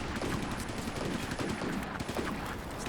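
Machine gun fire in the Combat Mission World War II strategy game, a dense continuous rattle of bursts filling the whole stretch, loud and close with no speech.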